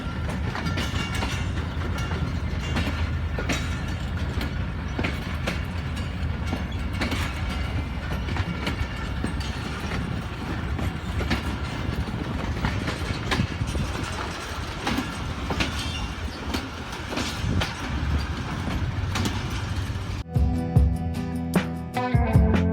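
Millat Express rolls into platform 3 at Karachi Cantt station, a continuous loud rumble of wheels and carriages with rhythmic clatter over rail joints, ending in a sharper mechanical screech.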